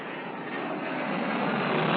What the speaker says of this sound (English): For 10 years, the C-141 has been the Air Force's primary strategic airlift airplane.